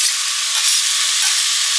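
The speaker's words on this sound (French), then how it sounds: "Dans une casserole, j'ai fait chauffer un filet d'huile d'olive, j'ajoute mes courgettes en dés, j'ajoute également mes gousses d'ail hachées" Diced courgettes and chopped garlic fry in hot olive oil in a saucepan, giving a steady, close, even sizzle that runs unbroken throughout with no voices.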